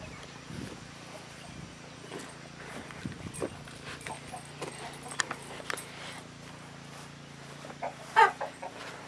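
Chickens clucking inside a backyard homestead coop, with scattered short calls and a louder burst near the end over faint background noise.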